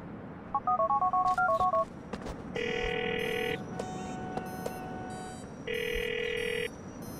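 Phone dialing in Grand Theft Auto IV: a quick run of keypad tones, then two loud, even ringing bursts separated by a pause, with faint background noise between.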